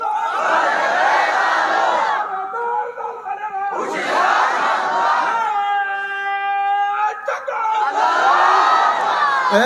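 A crowd at a Bengali Islamic sermon gathering shouts takbir in loud, massed bursts, three surges of roaring voices separated by a single sustained chanted call.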